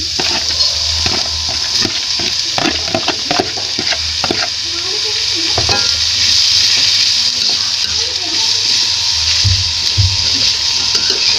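Cucumber stir-fried in a pan, with a loud continuous sizzle of hot oil and repeated scraping stirs of a utensil against the pan.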